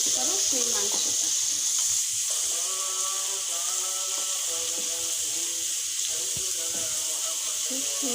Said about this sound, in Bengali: এখন আমি দিয়ে দিব ম্যারিনেট করা সেই মাংসটা।